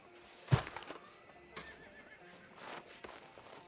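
Neighing horse in the Red Dead Redemption 2 video game, a loud close whinny near the start followed by softer hoof clip-clops and faint ambient sounds.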